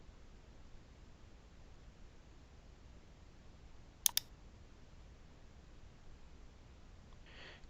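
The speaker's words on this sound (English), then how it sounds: "And scroll to the bottom and click the Save button." Two quick, close computer mouse clicks sound in close succession, crisp and faint against a quiet room hiss.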